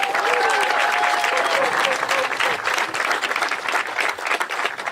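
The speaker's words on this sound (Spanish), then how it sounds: "um forte aplauso também para Quincy." A crowd applauds steadily and loudly at a beach gathering, a thick continuous wash of clapping with a faint tonal whistle near the start.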